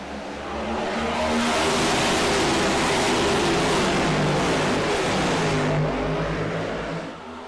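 A pack of race cars at Daytona roars away from a green-flag restart, a dense, loud wall of engine noise swelling in quickly, holding steady, then easing off as the field passes.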